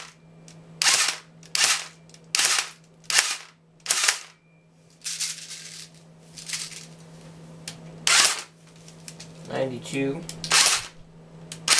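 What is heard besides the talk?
airsoft gun firing BBs through a homemade chronograph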